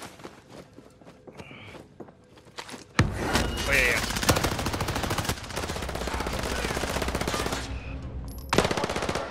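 Video game gunfire from a firefight: bursts of automatic rifle fire begin abruptly after a few quiet seconds, with footsteps and scattered shots and voices talking underneath.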